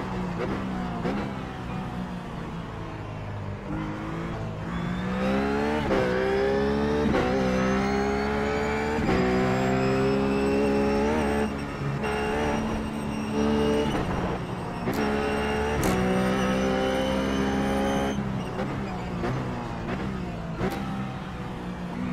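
A Ruf GT3 race car in iRacing at Sonoma sounds a loud, close engine note that climbs in pitch again and again, with sharp drops at each upshift and a throttle lift partway through.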